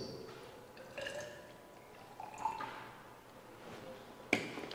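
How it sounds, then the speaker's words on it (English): Water is poured into clay soil during an agriculture practical, making faint, soft liquid trickles and drips with a few small splashes in a quiet room. "So now after pouring in water, then you stir so that this water can enter soil"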